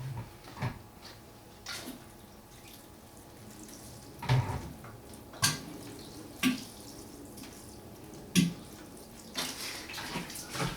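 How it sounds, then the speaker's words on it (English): Sown broad bean seeds in garden rows being watered in, with several short bursts of splashing and trickling water separated by pauses, close and moderately loud. "I'll just give them a quick sprinkle, just to water them in."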